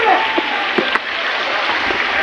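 Water tumbles down Mayabi waterfall at Jaflong in Sylhet, a steady broad rushing roar close by, with a few faint knocks and brief voices in the background.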